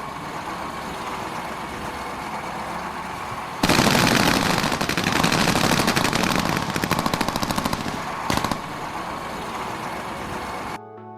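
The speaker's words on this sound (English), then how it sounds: "BMP Bradley shoots through a Russian BTR." A Bradley fighting vehicle's gun hammers at a Russian BTR in a sustained, rapid burst of heavy automatic fire, loud and continuous for several seconds, with a brief break near the end before it cuts off.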